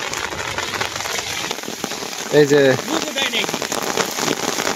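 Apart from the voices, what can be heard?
rain falling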